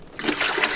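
Water poured out of a basin into a sink during catheter care skills practice, a close, steady trickling and splashing lasting under a second.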